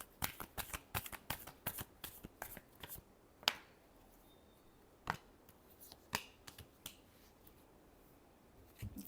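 Playing cards are shuffled close by, making repeated quick riffles and flicks in an uneven rhythm, then a few sharper snaps and taps spaced further apart, fairly faint with no speech.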